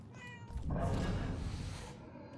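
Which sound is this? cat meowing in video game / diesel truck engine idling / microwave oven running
cat meowing in video game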